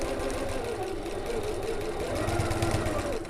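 A sewing machine back stitches on an evening bag, running as a continuous fast mechanical hum and rattle of needle strokes with slight shifts in pitch, close and steady, ending with a brief pause.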